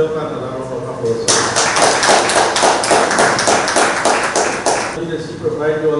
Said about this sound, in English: So she deserves another round of applause.